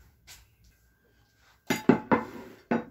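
A tray of tea cakes slid into an oven set to 325 degrees, heard as a few sharp metallic clanks and rattles of the pan against the oven rack after a quiet start, close and fairly loud.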